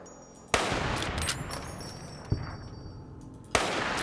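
Gunfire from Fallout New Vegas aimed at ghouls: three sharp, loud shots spaced a second or more apart, each followed by a noisy rumbling tail and faint ringing game tones.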